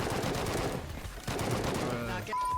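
Rapid AK rifle fire in a first-person shooter game, dense bursts of automatic shots filling the clip with a short lull midway, loud and close amid mixed game sounds.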